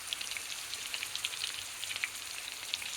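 Koftas frying in oil, a soft bubbling sizzle with frequent small crackles and pops, fairly quiet and steady with no talk.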